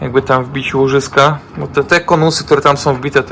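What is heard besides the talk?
No everyday noise stands out behind the speech.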